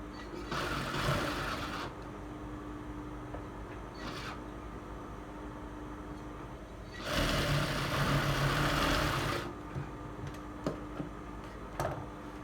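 Sewing machine stitching a lining strip on a blouse, running in two loud whirring bursts with rapid needle clatter, separated by quieter pauses with small clicks and a short buzz, no talking.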